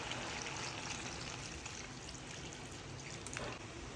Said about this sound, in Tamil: இப்போ 2 டம்ளர் தண்ணி ஊற்றிக்கலாம்